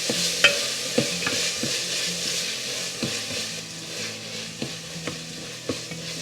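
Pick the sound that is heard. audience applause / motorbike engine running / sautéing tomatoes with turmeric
sautéing tomatoes with turmeric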